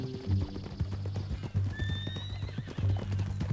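Horse hooves clop in a steady rhythm close by in Red Dead Redemption 2 while a horse lets out a shrill whinny partway through.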